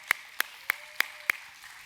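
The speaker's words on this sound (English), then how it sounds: "let's give them a round of applause." Five sharp, evenly spaced hand claps at a 2020 school graduation ceremony, roughly a third of a second apart, fairly faint over a low hum.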